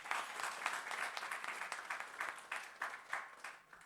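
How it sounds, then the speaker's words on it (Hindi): Applause from a seated audience at an introductory camp session in Nagpur, steady clapping from many hands with irregular louder bursts, sustained for a few seconds at moderate level. "गुड, तालियां"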